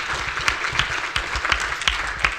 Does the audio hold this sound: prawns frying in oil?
no